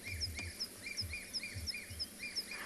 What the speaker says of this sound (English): I was listening out to the birds.